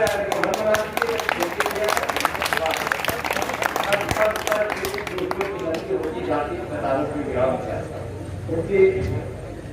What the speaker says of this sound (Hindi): एक बार जरा तालियां